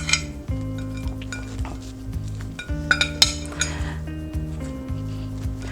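Utensils clink and scrape against dishes while air-fried plantains are plated, a close series of irregular metallic taps and ringing clinks over a quiet kitchen background.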